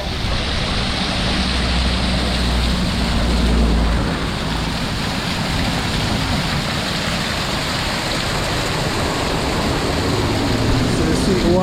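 Rosselle Falls, a waterfall in St. Thomas, Jamaica, pouring as a dense, continuous rushing roar close by, with voices talking faintly beneath the steady wash of water.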